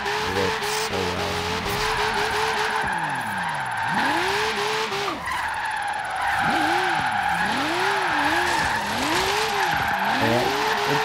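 A Nissan S13 drift build in Forza Horizon 3 holds a loud, steady engine drone while tires squeal in repeated rising and falling arcs through continuous drifting, with no talk.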